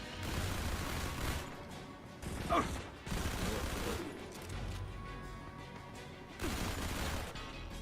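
Fast-firing weapons rattle in the mobile shooter Modern Combat 5, with bursts of rapid gunfire separated by short quieter gaps and a sharp metallic clank in between.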